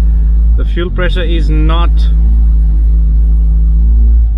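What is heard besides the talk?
Mitsubishi Lancer engine revving in drive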